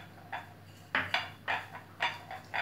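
A spoon clinks and scrapes against a bowl while spices are stirred into a little water for a meat and vegetable tagine, several light, sharp taps in an uneven rhythm, close and quiet.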